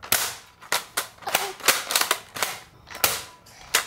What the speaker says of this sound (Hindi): यहाँ पे चीकू अपने भाई को गन चलानी सिखा रहा है